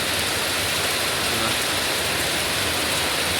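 Steady, dense rain pours down outdoors in Thailand, a continuous broadband hiss with no pauses, loud and close throughout.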